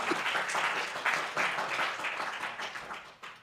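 Sustained audience applause for election candidates at an evening community forum, a dense, steady wash of clapping from a crowd that holds throughout and eases slightly toward the end.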